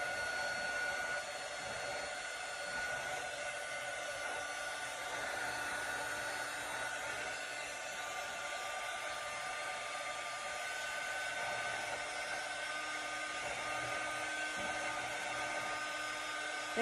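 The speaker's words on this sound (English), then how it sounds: "And again, with the dryer" A hair dryer blows steadily and loudly for the whole stretch, a constant airy whoosh with a faint whine and no breaks.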